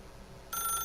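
A telephone in the video game The Stanley Parable starts ringing abruptly partway through, a bright, steady electronic ring that holds at an even, fairly loud level after a low hum of room tone.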